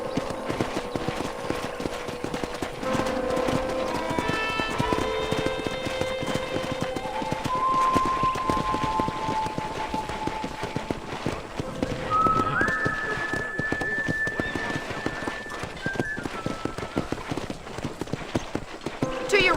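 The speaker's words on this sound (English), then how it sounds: "let's see if you can still ride a horse" A horse in Red Dead Redemption trots with steady, rhythmic hoof clip-clops on the ground, continuous and close, mixed with background music tones while a character speaks over it.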